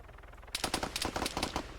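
A rapid burst of automatic gunfire in the video game DayZ on the Taviana map, sharp close shots in quick succession after half a second of quiet, loud against a low background.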